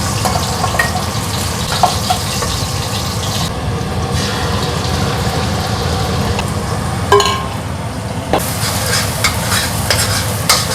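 Fish frying in an oiled pan, a continuous loud sizzle and crackle with occasional sharp pops and scraping clinks of a utensil, steady throughout with brief bursts of louder spattering.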